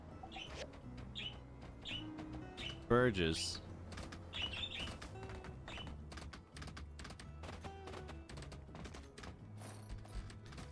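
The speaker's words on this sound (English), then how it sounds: "So the birds are being especially chirpy right now." Birds chirp in short, repeated tweets during the early afternoon, scattered across the stretch, while a person speaks briefly and light clicking sounds occur nearby.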